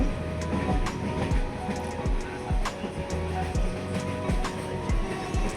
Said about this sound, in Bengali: এই দেখো ট্রেন চালু হয়ে গেছে